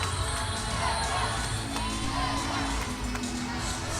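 Sold-out arena crowd at the NCAA women's gymnastics championships at Chaifetz Arena in St. Louis, with four events running at once. The crowd gives a steady, loud roar with scattered cheers and shouts throughout.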